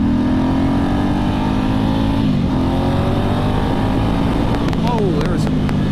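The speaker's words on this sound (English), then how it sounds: "We're going to do a walk around and exhaust note like we usually do." A 2008 Ducati S2R1000 motorcycle engine runs loud and close throughout, its exhaust note holding a steady idle before rising and falling through revs.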